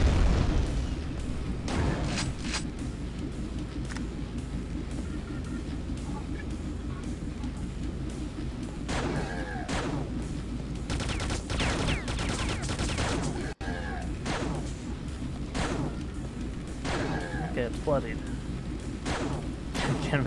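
Shotgun blasts in the Quake mod Outer Outer Base (2020 map by Quakeulf), several loud booming shots spaced through dense game noise and monster sounds, with a voice talking over the action.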